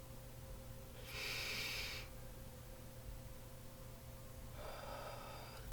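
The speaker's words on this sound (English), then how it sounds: "All right, guys, another deep breath." Two deep breaths drawn close to the mic during a quiet meditation, each a soft airy rush lasting about a second, separated by a few seconds of low hum and near-silence.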